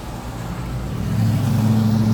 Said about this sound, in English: I just love the windows being down. I don't love all this traffic.